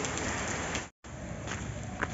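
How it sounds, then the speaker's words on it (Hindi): Heavy rain falls at Pandav waterfall in Panna, a dense, close, steady hiss of drops on surfaces with a brief cut of silence midway. "यहाँ पर आती ही हो गई है बारिश शुरू, और बारिश इतनी तेज़ हो रही है"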